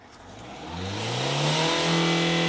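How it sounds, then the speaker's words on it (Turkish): A rebuilt car engine is blipped with the throttle, a steady idle rising into a loud, sustained rev that climbs and holds close to the microphone with no talking. "Bir tapa gaz alabilir miyiz?"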